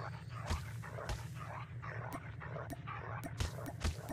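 Dogs in the Call of Duty Mobile battle royale whimper and yip: quiet, scattered short canine cries over steady game background noise, with a few sharper thuds between them.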